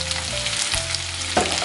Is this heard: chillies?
yes